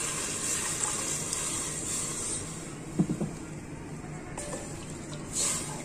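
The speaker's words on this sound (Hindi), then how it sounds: "1 लीटर पानी डाल देंगे" About a litre of water pours into a cooking pot for masoor dal lentil soup, a steady close splashing rush with a few soft clunks partway through.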